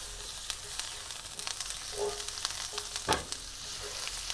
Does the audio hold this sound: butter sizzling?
yes